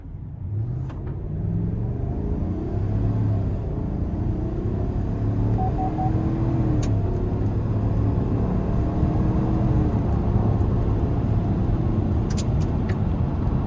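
A 2026 Chevy Suburban LS with a 5.3 V8 and 10-speed automatic accelerates in sport mode on an interstate, its engine note rising and dropping through several quick upshifts, heard from inside the cabin over a constant road rumble.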